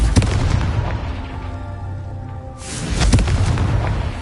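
Confringo blasting spell explosions in Hogwarts Legacy, two heavy booming blasts with rumbling tails, one at the start and another near the end, loud and close.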